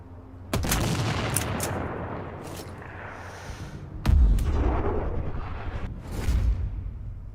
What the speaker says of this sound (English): Tango under mortar fire.